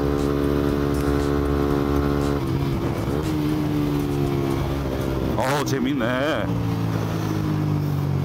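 A Suzuki GSX-R125 motorcycle engine idles with a steady harmonic drone, then briefly revs up and drops back, while someone talks over it.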